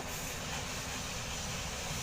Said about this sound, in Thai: นั่นค่ะมีรถไฟผ่านมาแล้ว